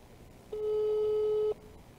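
A single steady telephone ring tone sounds for about a second while a number is being dialed, clear and alone against quiet background hiss.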